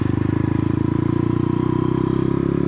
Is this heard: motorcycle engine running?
yes